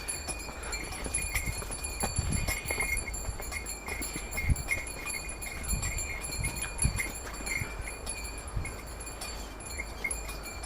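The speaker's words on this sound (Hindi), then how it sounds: "ये घोड़ा नहीं है ना, ये खच्चर का। खच्चर है।" A mule bought from Bakarwal herders in Kashmir near the Line of Control clip-clops with its hooves in an irregular, steady patter, moderately close, over a noisy outdoor background with a faint high tonal hum.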